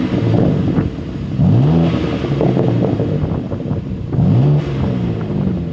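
A BMW M2 G87 engine with an Akrapovic slip-on exhaust revs up and falls back twice, its exhaust note rising and dropping over a continuous rumbling idle, close and loud.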